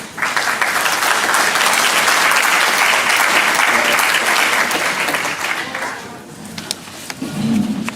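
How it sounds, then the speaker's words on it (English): An audience at a Texas Windstorm Insurance board meeting in Galveston claps loudly and steadily for about six seconds, then the clapping fades into scattered room noise as someone begins to talk. "let's give her a big round of applause"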